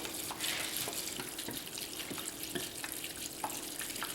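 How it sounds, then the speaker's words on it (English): A liquid chemical is poured slowly into a container during gold recovery from trimmed gold-plated fingers, a soft, continuous trickling stream with light splashy ticks, fairly quiet and steady throughout. "so pour it in nice and slow."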